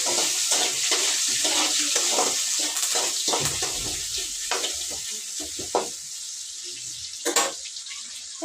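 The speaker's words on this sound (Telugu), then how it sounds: "బాగా వేడి అయిపోయింది అలాగే కరేపాకు టమాటా కూడా వేసేసినాను ఇవైతే ఒకసారి కలుపుకుంటా" Curry leaves and tomato fry in hot oil with a loud, constant crackling sizzle, broken by scraping stirs and a few sharp pops, heard close up.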